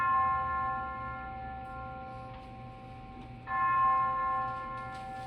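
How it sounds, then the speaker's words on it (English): A bell tolls during a stage performance of Macbeth, two sustained, ringing strikes with long humming decays, the second arriving about three and a half seconds after the first, heard alone without voices. "The bell invites me"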